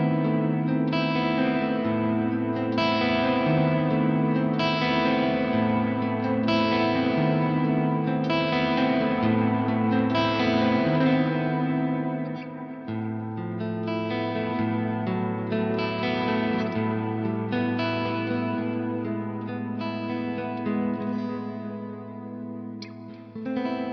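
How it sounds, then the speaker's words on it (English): An Ibanez RGD71ALPA electric guitar plays a clean, chiming tone through coil-tapped pickups, a flowing sequence of ringing arpeggiated chords with echo, alone and steady throughout. "I mostly use the coil tapping feature for clean tones because I prefer this sparkling, fresh sound of a singing coil for clean tones."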